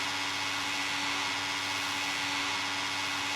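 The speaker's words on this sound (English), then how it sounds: "And then dry the animal with the dryer here." A steady whooshing hair dryer runs continuously at close range while drying a freshly rinsed animal at an animal shelter in a simulator game, with no talking over it.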